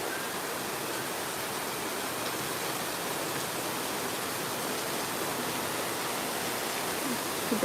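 Heavy rain with wind during a storm, a steady, dense, continuous rush of noise that stays even throughout, with no voices.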